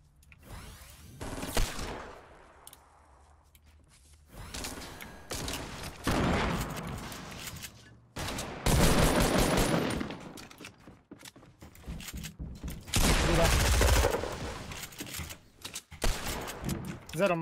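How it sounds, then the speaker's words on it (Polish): Bursts of gunfire in a shooter video game, several loud volleys of rapid shots separated by quieter stretches, with players talking over parts of the action. "bo słyszał pewnie nasze strzały"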